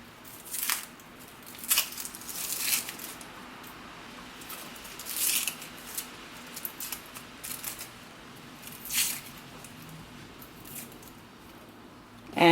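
Dry papery crackles and tearing rustles come in scattered bursts as layers are peeled from a flat, disc-shaped onion, close and fairly quiet with no talk.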